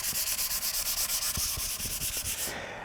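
Sandpaper rubbed by hand across guitar wood during fine-grit finishing, a close, steady rasping with rhythmic back-and-forth strokes that stops abruptly near the end.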